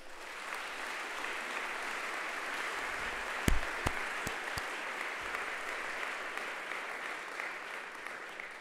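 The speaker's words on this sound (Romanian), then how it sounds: "Să-i aplaudăm!" Audience applause after a call to applaud nearly 2000 colleagues at a USR party speech event, a steady wash of clapping with a few sharp louder claps near the middle, moderately distant.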